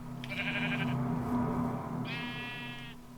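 A black sheep bleats twice outdoors, two drawn-out, wavering calls separated by a short pause, fairly close and clear over a low background hum.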